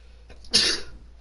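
A single sneeze: a brief intake followed by one sharp, loud burst of breath close by, then quiet.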